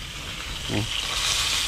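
Steady hiss of fish frying in oil fills the clip, with a brief louder crackle midway as the sizzle intensifies.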